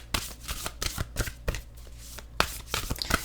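A deck of oracle cards is shuffled by hand close to the microphone, with irregular quick riffles and soft slaps of cards in uneven bursts and no talking.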